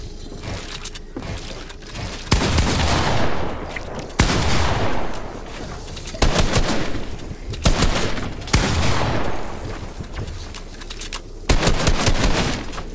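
Heavy automatic gunfire in Fortnite, loud and close, coming in several sustained bursts with short gaps between them.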